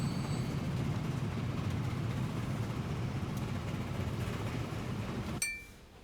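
Trains running in the video game Transport Fever 2 give a continuous rolling rail rumble with faint clinks, steady and moderately distant. The sound cuts off abruptly near the end, leaving a much quieter background.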